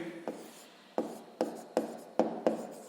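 Pen or pencil writing a maths solution on paper, a series of short scratchy strokes with sharp onsets, about six in under three seconds, close and fairly quiet with no talk.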